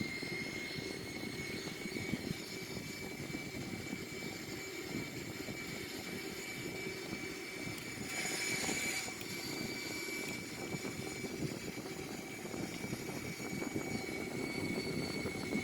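Steady airliner engine drone of a simulated Airbus A340 descending on approach, a continuous low roar with a faint steady whine above it.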